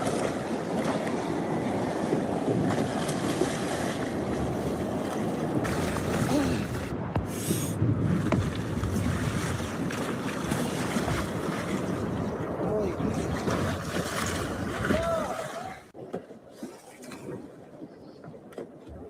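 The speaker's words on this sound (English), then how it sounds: "Guillermo enjoying rafting on the river." Raft moving along a river, a continuous rushing wash of water with wind buffeting, fairly loud throughout, briefly thinning near the end.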